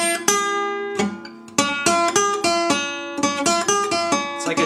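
A guitar plays a Delta blues figure from a song, picking a short arpeggio on a diminished chord in bright, ringing plucked notes at a steady, loud, close rhythm with no voice over it.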